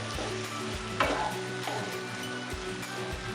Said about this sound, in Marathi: त्यात आता आपली ही कोलबी टाकूया